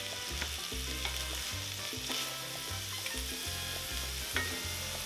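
Onions and minced garlic sizzle in a pan with drained ground meat, a steady crackling fry broken by scraping stirs and soft clinks, close and alone without talk.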